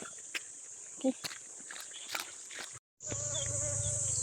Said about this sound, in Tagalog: O di ba po nakikisali pa ang kulisap dito sa kalikasan.